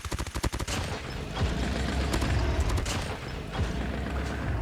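Rapid automatic fire from a PDW-57 submachine gun in a ranked video game match, opening with a quick burst of distinct shots, then a dense, sustained stream of gunfire with mechanical clatter, loud and close throughout.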